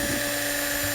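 A high, steady whine of a small power drill running continuously at close range, drilling into a screw on a Volkswagen Karmann Ghia horn.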